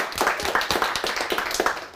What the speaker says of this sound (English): Oh, we can get a little applause for that video.